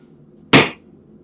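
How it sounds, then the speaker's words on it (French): One sharp hammer blow on hot metal while forging a nail head, a single loud ringing strike that decays quickly in a quiet space. "Je prends mon marteau. Et j'y bassac la tête."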